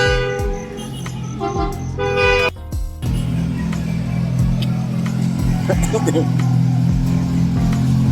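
A car engine rumbles and revs with a deep, steady growl, close by amid busy background noise.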